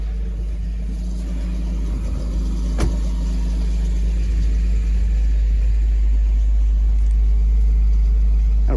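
A 1998 Chrysler Concorde LXi, a recently revived barn find, idles in snowy weather with the heater and defrost turned up, a steady loud low engine rumble with fan whoosh and one brief knock.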